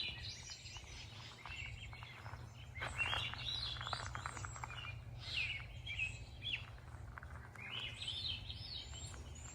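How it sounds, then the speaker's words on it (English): Birds chirp and tweet in quick bursts over a low, constant background hum, moderately close and fairly quiet. "listen to the birds"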